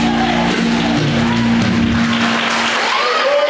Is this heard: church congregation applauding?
yes